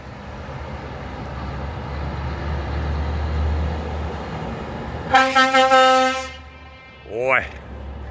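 Truck horns honk in a rapid series of several short, loud blasts, followed by a second, lower horn sweep, heard at a truck parking area, probably near a Porsche lot, against a steady background rumble.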